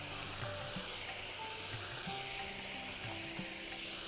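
Sliced garlic crackling in a hot pan, giving a dense, continuous close sizzle with faint bubbling pops and no voices.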